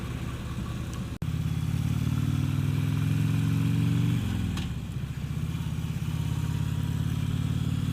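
A motorcycle rides through cold weather past a lake and over a dam, its engine droning loud and close throughout with a brief cutout early on and a shift in pitch midway as it changes speed.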